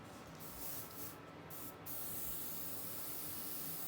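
An airbrush sprays opaque paint as a continuous, close airy hiss. The spray briefly thins and returns, then settles into a steady loud stream.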